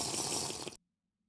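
A short, loud gush of water being drunk in a video game, a steady splashing pour lasting under a second before cutting off abruptly into silence.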